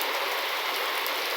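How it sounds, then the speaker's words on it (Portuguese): Steady rain falls on a rural farm property in the countryside, a continuous dense hiss of drops with no voices, even and unbroken throughout. "Caindo água."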